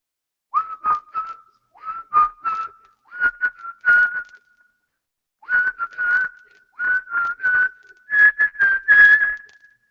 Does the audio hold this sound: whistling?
yes